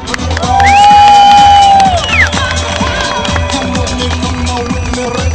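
A crowd cheers and shouts at a drift show in Sofia, with a loud rising-and-falling whine sweeping across the first couple of seconds before the crowd noise carries on steadily.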